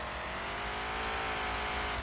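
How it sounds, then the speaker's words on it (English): Engine of a stock 90's Ford F150 pickup crawling off-road in Offroad Outlaws, a steady, close, humming drone with a faintly rising pitch across a couple of seconds and no voices. "The Ford is making its way out of the snake trap."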